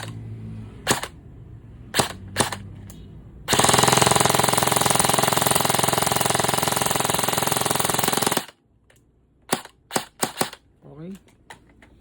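An EMG TTI MPX K airsoft electric gun fires up close, first in a few sharp single shots, then in a loud sustained burst lasting about five seconds, and then in more scattered single cracks.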